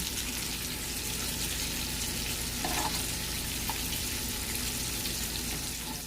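Cajun shrimp seasoned with onion powder and Cajun seasoning sizzle steadily in a pan, a constant dense hiss lasting throughout with no voices.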